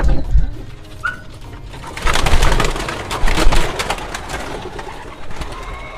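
A flock of about sixteen racing pigeons released for an exercise flight, with a loud burst of clattering, fluttering wings rising over soft cooing and bird calls close by.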